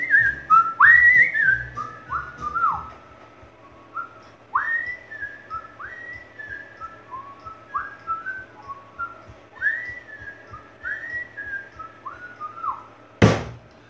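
A person whistles a lively tune with rising and falling notes over a steady rhythmic thump, ending with a sharp knock.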